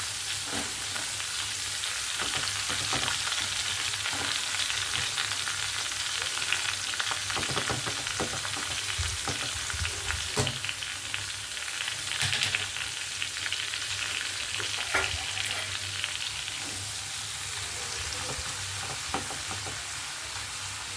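Freshly cut winter cabbage dropped onto a tempering of spices frying in a pan, a steady dense sizzle and crackle running throughout with occasional scraping stirs, close up and without any voices.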